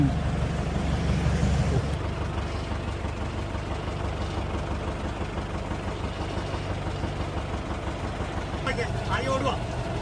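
A boat engine drones steadily on the Alleppey backwaters in Kerala, a low continuous rumble heard close, with a voice talking over it.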